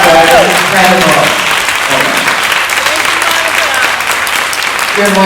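Audience applause at a fireside chat event, sustained dense clapping from a crowd for several seconds, with some voices mixed in.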